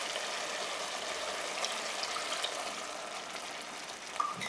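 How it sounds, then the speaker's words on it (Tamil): Water poured into a pot of salted mutton being cooked for biryani, a faint steady trickle and splash heard close up and alone. "1 கப் அளவுக்கு தண்ணி சேர்த்துக்கலாம்."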